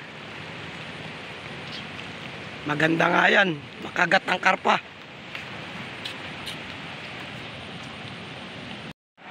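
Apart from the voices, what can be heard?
rain falling outdoors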